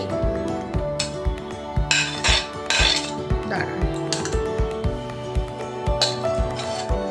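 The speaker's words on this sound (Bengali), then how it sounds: "এগুলো এবার একটা মিক্সিং বাউলে মিক্স করে নেব" Salad ingredients are mixed in a mixing bowl with a utensil, a steady run of close metallic clinks and scrapes against the bowl in a repetitive rhythm, loud and near, with no voices.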